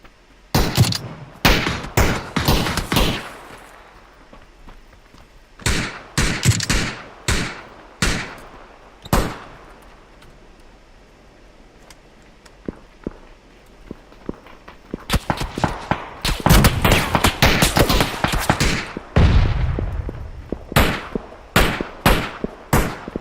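Gunfire in the video game PUBG: sharp loud bursts of rapid shots come in clusters with short gaps between them, and a few single cracks are mixed in.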